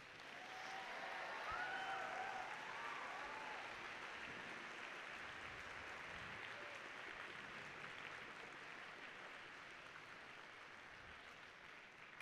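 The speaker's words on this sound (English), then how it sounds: "it is incredibly important that we give a huge round of applause to our coaches and mentors and parents" Faint, distant applause from a large crowd at a school opening ceremony honoring coaches, mentors and parents, a steady wash of clapping sustained for several seconds with a few whoops early on.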